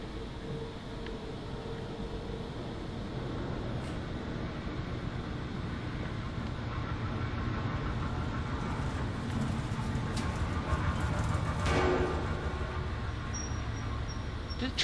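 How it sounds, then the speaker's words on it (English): A train passes in the horror game Amnesia: A Machine for Pigs, a steady low rumble with a slight swell near the end, heard alone without talk. "I think a train just drove by."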